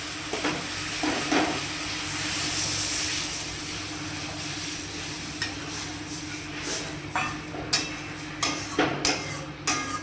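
Water poured into fried spices in a hot pan sends up a loud steamy hiss that slowly settles, followed by a series of sharp spoon-on-pan scrapes and knocks toward the end.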